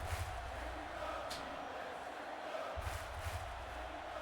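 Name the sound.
crowd screaming and chanting at football game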